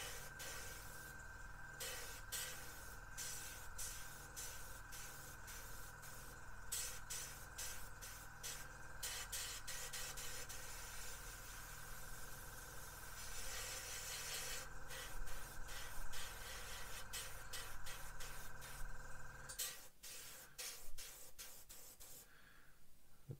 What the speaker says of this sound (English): give you a softer paint spray